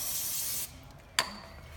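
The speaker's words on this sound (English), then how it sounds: "Spray your cleaner on," A steady hiss of chain cleaner spray onto a motorcycle chain for about half a second, a pause, then a short sharp spritz, close and fairly quiet.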